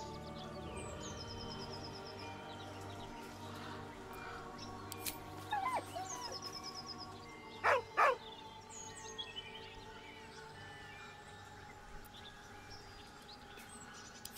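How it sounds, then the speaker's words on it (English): A dog in Baldur's Gate gives a few short whines and yelps over a quiet ambient game background with faint birdlike calls, the loudest pair of cries coming close together midway. "With a deep, heartbroken whine, the dog bows his head."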